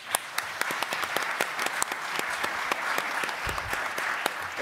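An audience at a panel discussion claps briskly, producing a run of sharp, distinct hand claps at moderate volume with little talk.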